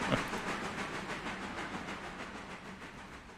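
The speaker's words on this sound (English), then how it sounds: "a bark, or is this a deep, like a deep note to the chuff when it's working hard" A steam locomotive in the train simulator Railroader chuffs steadily and fast under hissing steam, a continuous rhythmic exhaust beat with rail clatter, fairly close and with no talk.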